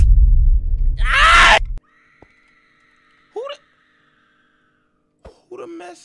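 A loud in-game scream bursts out in a Minecraft Backrooms map, followed by quieter eerie creature cries and a faint drawn-out tone, with a heavy low rumble under the start.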